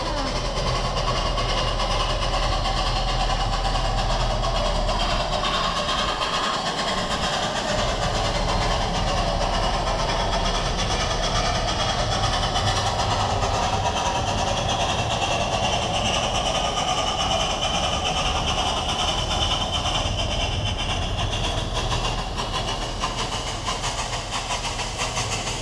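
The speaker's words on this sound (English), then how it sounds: "It almost sounds like a steam engine's driving it." Durango and Silverton steam locomotive train running in Colorado, a steady rumbling hiss with continuous rail noise, loud and close throughout, with faint voices in the background.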